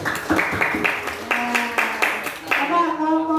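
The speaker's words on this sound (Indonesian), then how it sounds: "Oke, tepuk tangan untuk Bapak." A classroom group gives a short round of clapping for a presenter, several distinct claps in an uneven rhythm, close by and mixed with voices.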